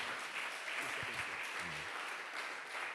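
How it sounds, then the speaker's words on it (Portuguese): A church congregation applauds during a worship service, a broad, even wash of clapping at moderate distance, with a few faint low voices and tones surfacing briefly beneath it. "aplaude o Senhor com alegria"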